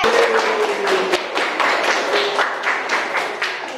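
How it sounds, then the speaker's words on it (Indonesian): A classroom applauds for a student after a dance lesson presentation, with dense, steady clapping that fills the room; a faint tonal whine runs beneath it. "beri tepuk tangan buat Dede."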